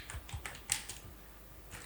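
A computer keyboard being typed on in short irregular bursts of light clicks, close and quiet, with one sharper keystroke near the middle and a brief pause before a final tap.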